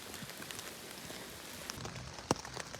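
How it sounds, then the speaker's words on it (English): Rain patters densely and evenly on a tent along the Appalachian Trail, a soft steady hiss with scattered louder drops, heard from inside and fairly faint. "It's raining outside, so I'm hiding in here."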